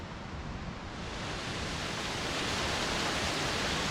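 A waterfall swollen after several days of rain pours in a steady broadband rush, fairly faint and constant, growing slightly fuller over a few seconds with no voices.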